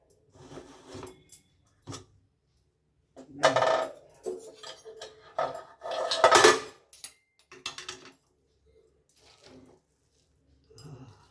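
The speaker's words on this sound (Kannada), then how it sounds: "ವಿಷಲ್ ಹೋಗಿದೆ, ಇವಾಗ ಮುಚ್ಚಳ ತೆಗಿಯುವ" A pressure cooker lid is lifted off after the whistle, giving sharp metallic clanks and scrapes in short bursts with quiet pauses between them, close up in a kitchen.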